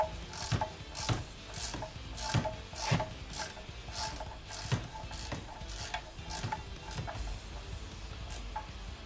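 A ratchet tightens the oil drain plug on a Seat Ibiza 1.4 16v, producing close, loud, repeated clicking pawl bursts at an uneven, stroke-by-stroke rhythm.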